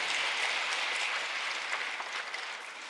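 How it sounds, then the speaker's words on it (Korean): Church congregation applauding together at the close of a Sunday service prayer, a steady broadband wash of clapping held at even volume for the full length before easing slightly at the end. "하나님께 영광의 박수."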